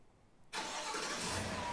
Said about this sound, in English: So now let's remote start it again.